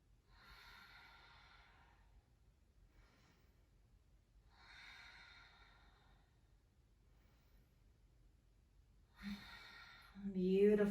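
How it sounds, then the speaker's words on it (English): Three slow, deep belly breaths during a yoga session, each a soft airy inhale and exhale in a quiet room, the last ending in a louder sigh. "3 deep belly breaths."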